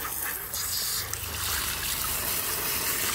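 Water poured from a container onto an aglaonema houseplant, a steady soft trickle and splash into potting media, fairly close and continuous without a break.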